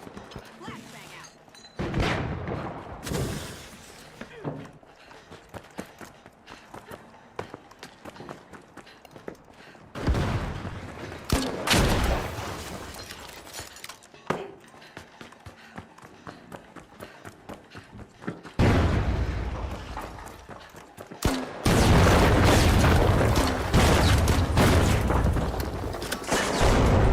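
Video game gunfire crackles in bursts with loud booms, including a flashbang grenade blast, alternating with quieter stretches of footsteps and movement, then long dense bursts of firing toward the end.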